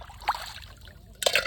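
Water splashes and sloshes briefly as a cooking pot is rinsed, with two short wet bursts close by and a quiet gap between them.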